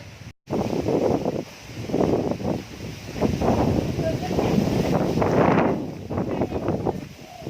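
Strong storm wind roars and gusts continuously at Pong Nam Ron during Typhoon Wipha, a loud buffeting rush with rustling and shifting intensity throughout.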